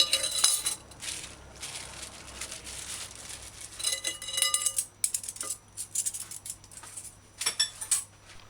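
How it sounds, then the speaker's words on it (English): A spoon stirring a soursop and fresh lime drink, close metallic clinks and scrapes against the container in irregular bursts, with quieter swirling between them. "Stir in drink until it's mixed properly"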